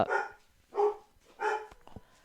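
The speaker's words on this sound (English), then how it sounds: "Dog ASMR. Please excuse him." A dog barks three times at a fairly even pace, each bark loud and close, separated by short quiet gaps.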